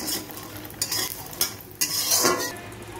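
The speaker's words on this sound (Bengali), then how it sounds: "তেল গরম হয়ে গেছে, বড়িগুলো দিয়ে দিচ্ছি ভাজার জন্য।" Bori lentil dumplings fry in hot oil with a steady sizzle, while a spatula scrapes and stirs against the pan in short, close, repeated strokes.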